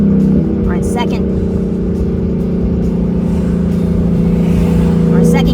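A 2017 Ford Mustang GT 5.0L V8 fastback pulls in second gear around 2,500 rpm, a loud, steady, throaty engine drone rising slightly, with someone talking over it inside the car.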